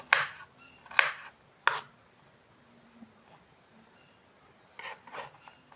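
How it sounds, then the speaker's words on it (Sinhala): A knife chops vegetables thinly on a board for potato pizza, with three crisp, sharp cuts near the start and two softer ones near the end, set against a steady high insect-like whine. "එළවලු ටික මේ විදිහට වල හීනියට කපා ගන්න"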